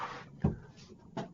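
A door panel is pulled off a homemade portable paint spray booth, giving a short hollow thump followed a moment later by a lighter knock, close and fairly quiet.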